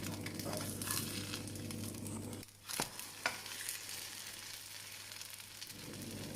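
Yeast pancakes with green onion and egg fry in a covered pan, a steady close sizzle that drops briefly as the lid shifts with a couple of metallic clinks, then continues hissing.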